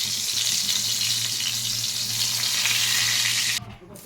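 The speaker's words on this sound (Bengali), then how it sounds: "সবার প্রথমে আমি এই 2 পিস বেগুন ভেজে নিচ্ছি" Two pieces of brinjal, coated in salt and turmeric, fry in hot oil with a loud, steady sizzle that drops off sharply near the end.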